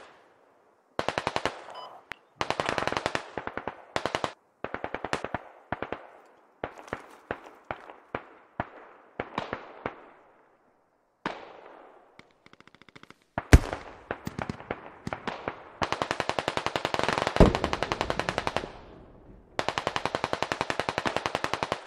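Bursts of automatic gunfire and sharp explosions ring out in the military shooter Squad as frag grenades fly, rapid strings of shots with short pauses, then louder sustained firing near the end, without talk.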